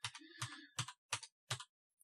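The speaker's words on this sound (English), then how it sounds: "I don't know if you can hear the clacking, but that's my keyboard" Quick clacking keystrokes on a computer keyboard hooked up to an Xbox, five or so crisp close taps in an uneven rhythm, alone with no talking.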